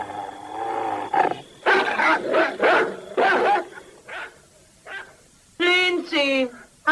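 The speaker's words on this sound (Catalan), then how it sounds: "El Lester no para de lladrar i m'està destrossant els nervis." A dog barks repeatedly in loud, irregular bursts, some drawn out and howling, with a voice briefly heard between barks in a tense horror-film scene.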